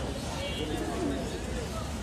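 Pigeons cooing at the Kaptan Bazar pigeon market in Dhaka, a low steady murmur of many birds under the busy din of the crowd, with voices mixed in throughout.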